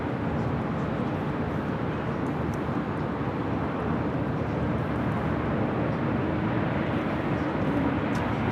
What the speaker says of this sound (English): Flight 12 coming up from Taipei at 777-300ER.